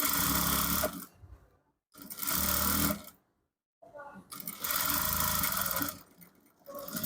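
A sewing machine stitching the leg of a palazzo trouser runs in loud steady bursts of about a second, stopping briefly between runs, with a faint pause of near silence in the middle.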